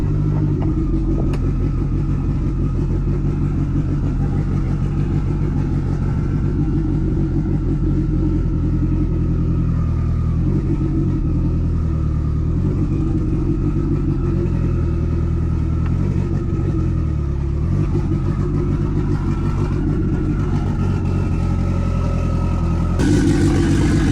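A Mitsubishi Evo 9, just repaired after a fuel leak, runs steadily with a low rumbling engine note while backing up, continuous and close throughout with slight changes in tone.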